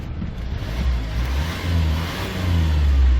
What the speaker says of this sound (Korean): 엔진 소음 전혀 문제 없고요.